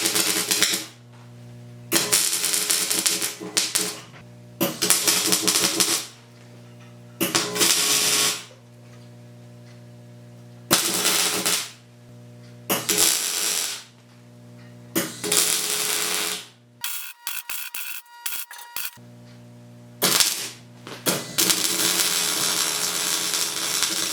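Welding on a steel lathe stand comes in about nine separate bursts of loud crackling buzz, each lasting one to two seconds, with near-silent pauses between them and a longer, steadier burst at the end.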